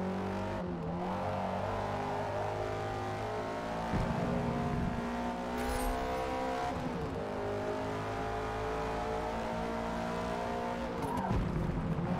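Tire squeal from a car cornering in the video game Forza Motorsport, sustained tonal screeching over a droning engine, with brief surges as the car slides through bends, clean game audio without talk.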